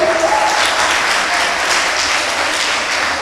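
An audience clapping for a young contestant at a children's podium speaking competition in the Gambia, dense continuous applause, loud and even from start to finish, with faint chatter beneath.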